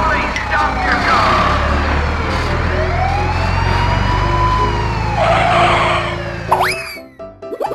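Cartoon police car siren in a toy construction truck cartoon, a loud wailing sweep that rises and falls over engine rumble and a skidding sound, ending in springy boing-like effects with voices speaking.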